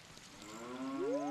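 A cow in a Zelda video game moos once, a low drawn-out call that rises in pitch toward the end, close and clear with no talk over it.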